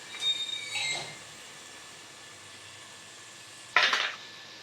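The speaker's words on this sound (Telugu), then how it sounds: "మొత్తం క్యాబేజ్ అంతా ఇలా వేసేసుకోండి గైస్" Cabbage tipped into a pan of cooked masala for cabbage kurma, giving a short sizzle at the start and a sharper, louder hissing burst near the end, with quiet stretches between and no talk.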